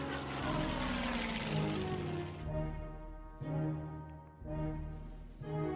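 Tactical bomber aircraft in the strategy wargame Hex of Steel, a sustained propeller-engine drone that fades, then several short engine swells recur, no talking.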